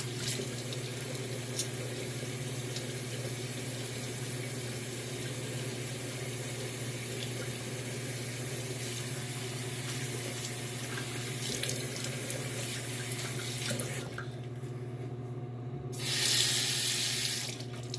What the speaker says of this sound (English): Let me rinse real quick.